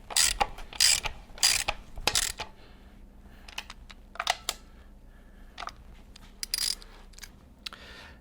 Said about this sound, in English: we are then able to tighten up the air box. And torque that spec.